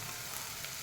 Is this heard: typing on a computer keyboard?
no